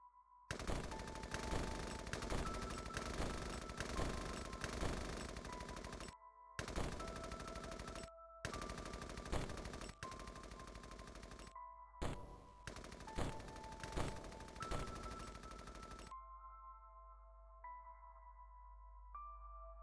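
Automatic gunfire rattles out in long, rapid bursts in the video game X-COM, several sustained volleys broken by short pauses, loud and close, ending with a fading electronic tone.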